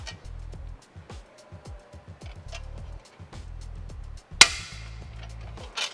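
An RMaxx aero cover panel snaps into place on a Rivian R1T running board, one sharp, crisp click standing out over steady nearby talking.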